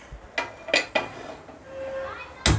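A pan set down on a home kitchen stove, several sharp metallic clanks and clinks in quick succession, close and fairly loud, with a brief murmur of a voice between them.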